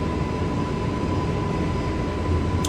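Airbus A320neo jet engines roar at a steady, loud, broadband level through a takeoff roll at 100 knots in Microsoft Flight Simulator, with a constant tone holding beneath the rumble and no talk.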